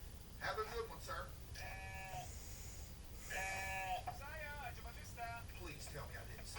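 Goats bleating at a farm, several wavering calls rising over one another in quick bursts across the clip, fairly near, against a steady low background hum.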